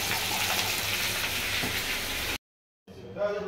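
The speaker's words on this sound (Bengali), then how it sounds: "এই তো চলছে মাংস রান্না।" Meat curry with turmeric frying in a pan, giving a loud, dense, hissing sizzle up close that stops suddenly, followed by a short silence and a quieter stretch of sizzle.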